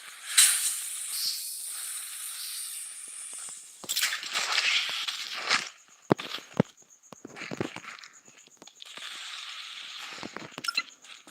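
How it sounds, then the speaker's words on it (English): Toxic grenade hissing in the shooter game Blood Strike, bursts of gassy hiss rising and fading in several waves, with sharp game effects and clicks between them, no speech. "Toxic grenade in play."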